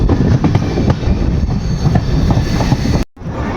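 From aboard the Andaman Express nearing Itarsi Junction, a loud, close rumble of the train on the rails carries steady wheel clicks, then cuts off abruptly near the end.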